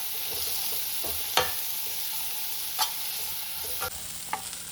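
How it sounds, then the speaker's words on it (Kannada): Onions fry in a pan until brown, giving a steady sizzle broken by a few sharp scrapes and knocks of a stirring spoon, with no voices. "ಚೆನ್ನಾಗಿ ಮಿಕ್ಸ್ ಮಾಡ್ಕೊಳ್ಳಿ ಈರುಳ್ಳಿ. ಬ್ರೌನ್ ಕಲರ್ ಆಗೋವರೆಗೂ ಚೆನ್ನಾಗಿ ಈ ಥರ ಮಾಡ್ಕೊಬೇಕು"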